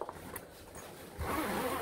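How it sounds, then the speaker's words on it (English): A zipper is pulled open on a fabric 3D printer enclosure, a soft rasping zip that grows louder partway through, close and alone. "They both have these zippers."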